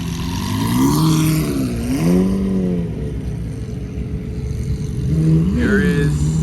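A Lamborghini Murciélago with its original V12 engine revving in repeated swells, rising and falling pitch sweeps close by, with a quieter idle between blips and no talking.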